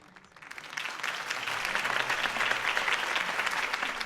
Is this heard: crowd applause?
yes